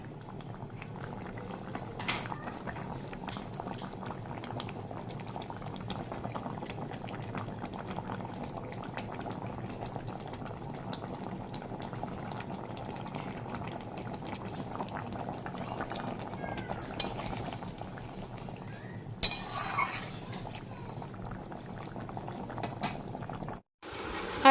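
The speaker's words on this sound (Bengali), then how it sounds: "দেখো এই আমার তরকারি ফুটছে, মাছ দিয়ে দিয়েছি, জিরের গুঁড়ো দিয়ে দিয়েছি" Fish curry with cumin powder bubbling in a pot on the stove, a steady soft simmering hiss that runs evenly throughout, with a few faint clinks and a brief louder rustle near the end.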